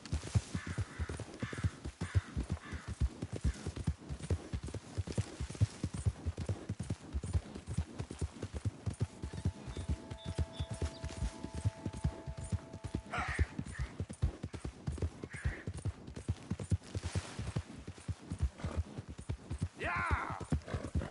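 A horse gallops in Red Dead Redemption 2, a fast, steady drumming of hoofbeats throughout, with a few brief snorts or whinnies rising above the pounding rhythm.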